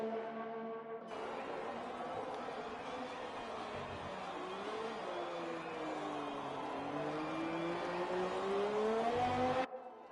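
An F3 race car engine on a wet track, with the driver feathering the throttle: a steady high-pitched whine rises and dips as the revs are modulated, loud and continuous for about nine seconds, then cuts off abruptly.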